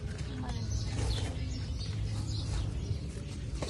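A spotted dove calls softly in a home garden where fruit trees are being planted, its low cooing faint and partly buried under steady outdoor background noise and a few distant chirps.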